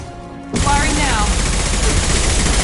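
Gunfire in the shooter game Mass Effect 2, a sudden loud burst of rapid shots after a quieter opening, continuing as sustained crackling fire for the rest of the moment.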